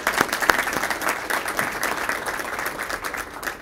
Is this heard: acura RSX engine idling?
no